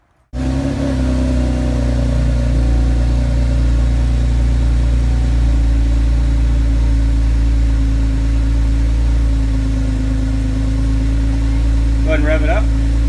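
A 3.6L V6 in a 2010-2015 Chevrolet Camaro idles on its stock exhaust, a steady low rumble close by that holds even for about thirteen seconds with a brief faint rattle near the end.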